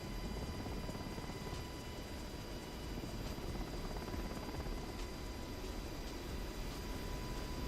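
A Black Hawk helicopter's engine and rotors drone in a free flight simulator game, a steady, even, low-level whooshing roar with no talk over it.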